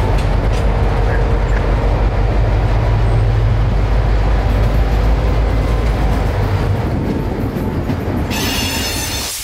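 A local freight train switches a customer spur to pick up an empty boxcar. Loud rolling wheels clatter and grind close by the whole time, with squealing rising near the end.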